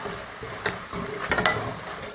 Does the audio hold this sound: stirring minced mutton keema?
yes